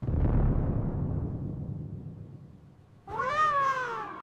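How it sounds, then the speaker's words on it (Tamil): A cat gives a single clear, rising-and-falling meow after a few seconds of low, fading rumble. "மியாவ்னு ஆன்சர் சொல்லிடுச்சு."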